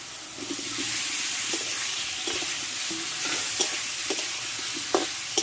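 Chopped sweet pumpkin frying in a pan with sugar for a vegetarian moong dal dish: a loud, continuous hissing sizzle close by, broken by occasional light spatula clicks and stirs, without speech.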